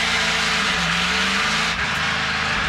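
A Ford stock car in a NASCAR Pinty's Series race accelerates hard off pit road after a fuel stop, its engine a loud, continuous roar with shifting pitch and a brief dip partway through.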